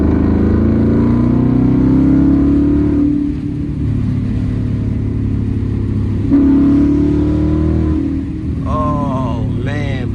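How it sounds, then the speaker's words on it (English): Ford Mustang GT with a manual gearbox, its loud exhaust droning and rising through revs as it accelerates, steady and close throughout, with a short dip mid-clip like a gear change and a voice briefly heard near the end. "This exhaust is really loud."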